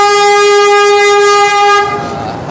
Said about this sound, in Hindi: ये ट्रेन बेलगांव जाने वाली जोधपुर के रेलवे स्टेशन पर आ चुकी हैं